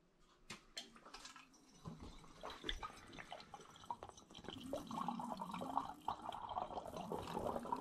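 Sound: beer being siphoned through a siphoning tube

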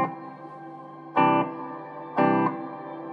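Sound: guitar reverb effect

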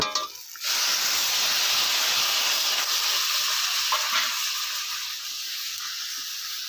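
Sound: water added to frying mustard and chili paste, sizzling

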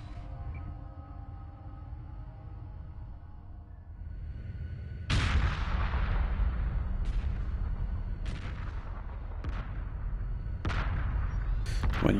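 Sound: explosion in a video game

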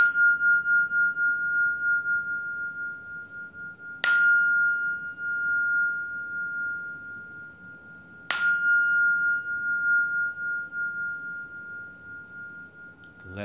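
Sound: meditation bell being sounded

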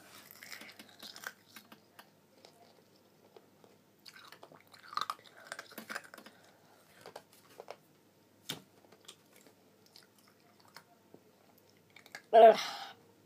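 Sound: chewing Fini Boom gum

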